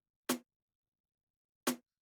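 A compressed snare drum strikes twice, a little over a second apart, in silence; each punchy hit has a sharp attack and a slightly fuller, sustained body.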